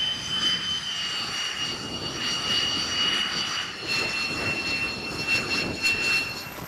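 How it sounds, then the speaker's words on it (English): X-47B drone jet launching by catapult from the deck of the supercarrier USS George H.W. Bush, heard as a sustained roaring jet engine with a shrill whine, steady and fairly loud throughout. "X-47B continued its carrier-based tests on the supercarrier USS George H.W. Bush, performing its first catapult launch on May 2013."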